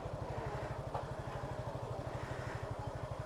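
Suzuki Gixxer 155 motorcycle riding through a narrow alley, its engine putting out a steady, rapid low thumping pulse, fairly quiet and continuous with no talk.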